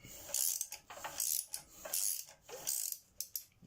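A ratchet wrench cranked in quick bursts of rapid clicking, several pawl-driven runs separated by short pauses, close and alone with no talk, during work on generator wheels.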